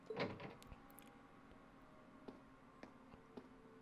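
A door sliding open with a mechanical whir in the RPG video game Legend of Heroes: Trails of Cold Steel, a short burst at the start followed by faint ticks and clicks over a quiet background.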